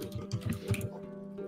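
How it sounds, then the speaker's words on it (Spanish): Computer keyboard typing picked up by a new microphone, quick soft clicks in an uneven burst, close but faint, fading into a low hum. "ahora tenemos un micrófono para Angu a través del cual se oye perfectamente su teclado"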